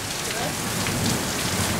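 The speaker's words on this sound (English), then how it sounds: "Oh yes, it's raining!" Heavy rain pouring down in Perth with gutters overflowing, a dense, loud, continuous hiss of water hitting surfaces close by, unbroken for the whole stretch.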